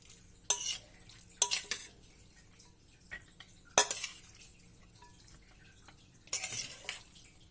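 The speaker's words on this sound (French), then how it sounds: "Donc je vais remélanger un peu tout ça." A spoon scrapes and clinks around a bowl while a lentil, salmon and shallot salad is tossed, four bright sharp clatters spaced apart with soft stirring between, close and quiet.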